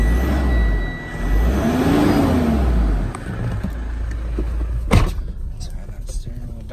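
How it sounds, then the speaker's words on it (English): A 2018 Mitsubishi Pajero Sport's engine is revved a couple of times from inside the cabin, rising and falling in pitch, followed by a sharp thump. "So we'll just give it a quick couple of revs for you."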